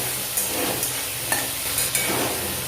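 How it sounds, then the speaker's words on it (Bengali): Potatoes fry in a pan with a steady, dense sizzle and hiss, broken by a few faint stirring clicks, close up and with no voices. "এবার আলুগুলো আমি ভেজে নেবো।"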